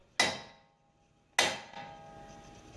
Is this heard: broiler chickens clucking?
no